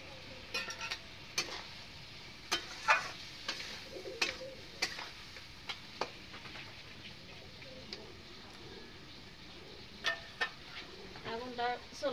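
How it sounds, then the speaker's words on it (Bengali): Spice masala frying in oil in a pan for a deshi chicken kosha with potatoes, heard as faint, irregular ticks and scrapes of a spoon being stirred over a low sizzle. "দেখো আমি দিয়ে একটু নাড়াচাড়া করে ভাজিয়ে নেব। মশলাটা একটু আমি ভালোভাবে ভাজিয়ে নেব।"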